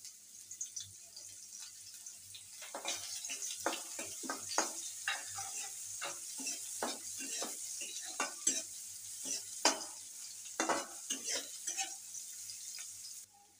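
Chopped onion goes into hot oil with chili in a pan for green papaya vorta, giving a steady sizzle broken by repeated stirring scrapes and clatters, close and fairly quiet throughout.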